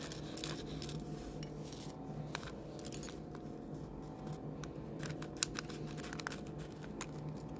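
Small scissors snip repeatedly at a nail workspace, a series of sharp, close, quiet clicks and cuts scattered over a low background hum, with no talking.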